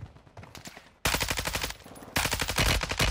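Rapid bursts of MP5 submachine gun fire in the Warzone video game, loud and sustained, with a brief quieter stretch before two long full-volume strings of shots.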